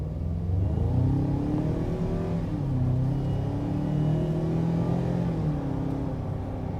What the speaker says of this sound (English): we'll give it just a little bit of throttle